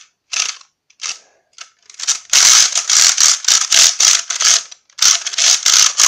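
Sharp plastic clicking in quick bursts from a broken toy lightsaber, a few sparse clicks then a steady run of loud ratcheting snaps, close and alone.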